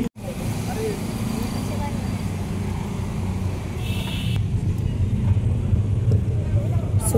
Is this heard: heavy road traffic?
yes